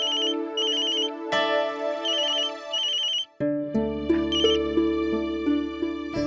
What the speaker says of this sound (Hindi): अरे फोन।